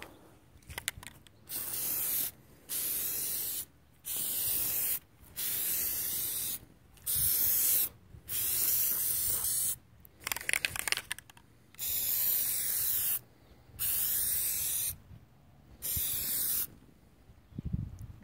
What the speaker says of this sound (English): just turn the can upside down, spray for about a second or two